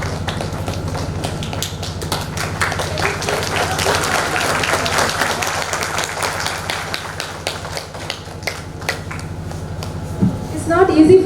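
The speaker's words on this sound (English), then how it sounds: "give a big round of applause" An audience at a breast cancer awareness award ceremony breaks into sustained applause for a recipient's family, dense clapping that swells and then thins, with a voice speaking over it near the end.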